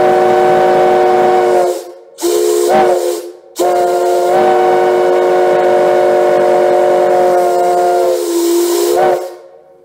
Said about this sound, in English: It's a very, very high-pitched whistle